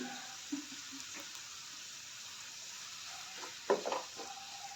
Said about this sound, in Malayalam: ഇനി നല്ലപോലെ മിക്സ് ചെയ്ത് കൊടുക്കുക.